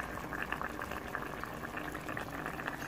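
Bistek sauce boils steadily in a pot ahead of adding fried tilapia, a continuous low bubbling with soft pops at moderate distance and no talk.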